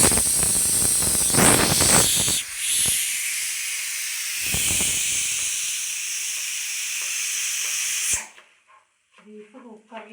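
A pressure cooker of beef curry, Kerala style, lets out a loud, close, continuous steam whistle and hiss for about eight seconds, then cuts off abruptly, leaving quiet household sounds with faint voices.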